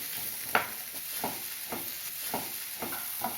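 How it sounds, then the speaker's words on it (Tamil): Red, green and yellow capsicum sautéing in a pan for a masala curry, with a steady sizzle under a regular rhythm of stirring scrapes, about one every half second, and no talking. "சிகப்பு கலர், பச்சை கலர், மஞ்சள் கலர், 3 கலர் குடமிளகாய் அதையும் சேர்த்து வதக்கணும்."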